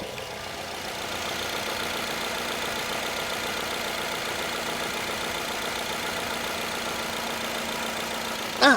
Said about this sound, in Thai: ให้ฟังเสียงเครื่องยนต์ประมาณนี้นะครับ เครื่องเดินนิ่งนะครับ